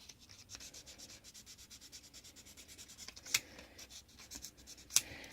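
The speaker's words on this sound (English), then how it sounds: "I probably don't have to go through this many grades of sandpaper." Sandpaper rubs back and forth across a model during modding and finishing, a soft rhythmic scratching in steady strokes, quiet and close, with a couple of sharper ticks near the end.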